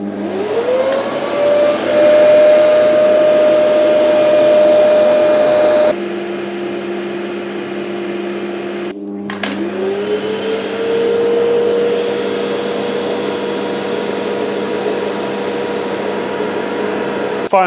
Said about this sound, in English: Next, I'm trying my original arrangement of my homemade drop box with the cheap and cheerful Dust Deputy.